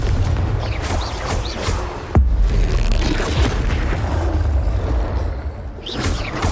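Heavy booming blasts from Bombarda explosion spells in the video game Hogwarts Legacy, loud and close, with a sharp impact partway through over a dense rumbling background of combat effects.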